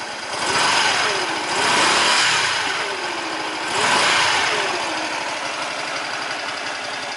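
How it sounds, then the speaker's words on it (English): A 125cc motorbike engine idles, then revs up twice in rising swells before settling back to a steady mid-pitched idle, close and fairly loud. "Let's rev it up a bit."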